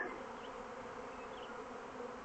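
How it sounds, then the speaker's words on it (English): Honey bees buzzing outdoors in a steady, dense drone that stays even throughout, with no voices. "There are bees."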